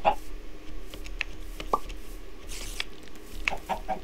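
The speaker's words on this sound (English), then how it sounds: "That chicken just shed out an egg." A chicken clucks in the Minecraft video game, in short scattered bursts over a quiet background, with a few sharp clicks and a brief soft popping sound as an egg is laid.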